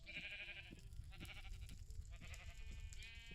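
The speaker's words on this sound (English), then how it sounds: "Nomad, I just caught a sheep on fire" Minecraft sheep bleating as it burns, several short nasal bleats in a quick series over low crackling game noise, close and fairly loud, no talk.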